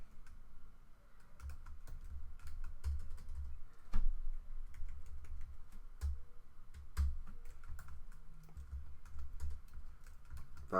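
Quick, light keystrokes clatter on a computer keyboard in irregular bursts, close and fairly quiet, with a few heavier taps and a faint room hum underneath, no voices.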